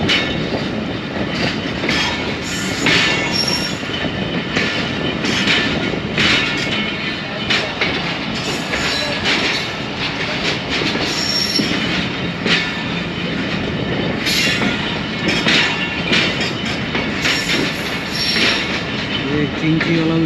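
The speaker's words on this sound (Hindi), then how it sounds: "वो चल पड़ी है रेल।" A passenger train, the Subak Raftar Express, pulling out of Dhaunkal/Deona Jalalpur area station on the Lahore to Gujar Khan line, heard from aboard as a steady loud rumble with rattling carriage noise and faint squeals throughout.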